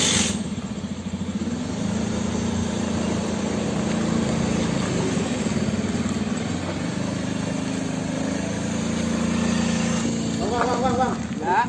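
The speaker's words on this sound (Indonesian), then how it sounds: "Motor nyala" A motorcycle engine runs steadily at idle throughout, a continuous low drone with faint voices in the background.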